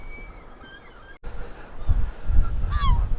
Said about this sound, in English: that's the loudest seagull I've ever heard in my life